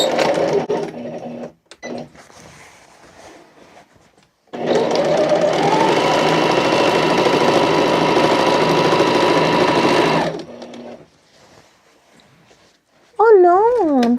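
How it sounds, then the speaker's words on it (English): A sewing machine joins curtain fabric pieces in a long, loud, steady burst of whirring stitching, bracketed by quieter handling noises and short motor starts, with a brief warbling electronic tone at the very end. "So I'm gonna stitch 2 times the width I just stitched to stitch the two pieces together."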